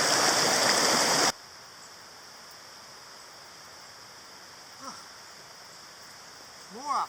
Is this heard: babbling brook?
yes